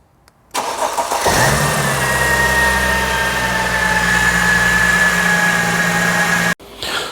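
A Mercedes starter motor cranks the engine when voltage is fed to the starter relay pin, then the engine catches and runs; a steady loud mechanical whir with an engine drone holds for about six seconds before cutting off abruptly, with no talking.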